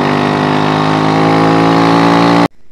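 An SND ZS 190 motorcycle engine idles close by with a steady, even drone that holds for a couple of seconds before cutting off abruptly.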